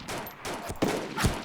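Bursts of rapid gunfire crackle and echo in a chaotic DayZ battle, several volleys overlapping in quick succession at moderate distance.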